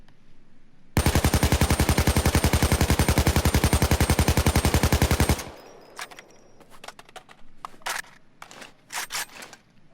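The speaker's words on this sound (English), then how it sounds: "you can see when I fire full auto, the recoil, the vertical recoil goes up" An AK-74 assault rifle in Payday 2 fires one long full-auto burst of rapid, evenly spaced loud shots for about four seconds, followed by a few scattered clicks and handling noises.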